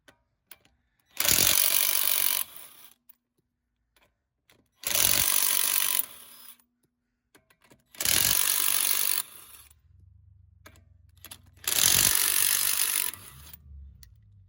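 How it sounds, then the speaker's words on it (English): Impact gun on a 19mm socket removing lug nuts from a 2007 Honda Accord EX front wheel: four loud bursts of rattling, each about a second long, separated by quiet gaps, with a low hum between the last two. "Take your impact gun or your wrench, the 19mm socket."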